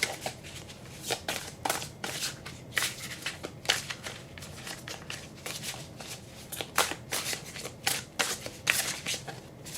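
A Star Tarot card deck being shuffled, its cards riffling and slapping in a quick, uneven run of crisp bursts that carries on without pause, close and clear.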